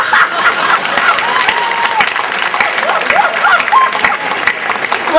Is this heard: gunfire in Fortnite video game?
no